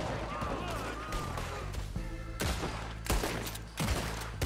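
Rapid gunshots in Red Dead Redemption 2 crack in bursts over a sustained mechanical drone, several sharp loud reports punctuating the final seconds.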